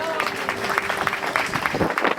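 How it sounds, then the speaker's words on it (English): Applause for a new couple at a songs-and-dances show, a steady burst of crowd clapping throughout with voices mixed in. "another big hand to the new couple"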